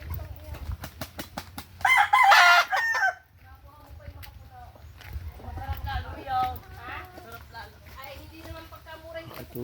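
Chickens and a rooster at a simple rural home, with a loud crow burst near the start followed by scattered clucking and fowl calls under steady talk.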